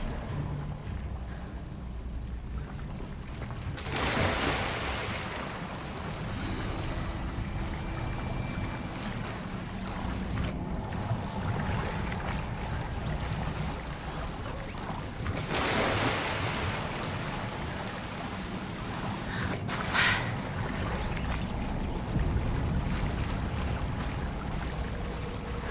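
Water bubbling in a spot in Hogwarts Legacy, a steady watery churn with a wash like surf that runs unbroken, alongside a few brief louder swells.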